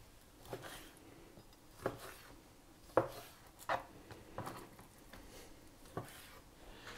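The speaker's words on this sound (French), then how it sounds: "Première étape, on va couper le poisson, je vais couper des cubes" A knife cuts boneless, skinless cod into cubes on a kitchen surface, giving sparse, irregular taps and soft thuds, close and moderately quiet, with no talk.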